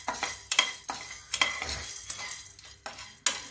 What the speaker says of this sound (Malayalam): ഉഴുന്നും കുരുമുളകും ഇട്ട് കൊടുത്തിട്ടുണ്ട്.